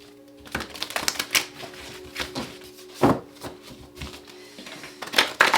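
Tarot cards being shuffled by hand, a run of soft irregular riffling snaps and taps close by, with a few louder bursts near the end and no voices.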